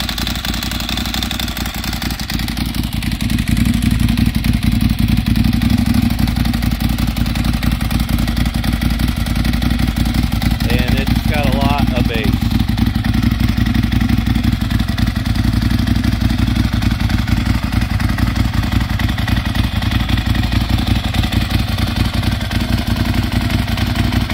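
Up close, a motorcycle engine idles steadily and loudly with a persistent clutch rattle and clatter, running continuously without revving.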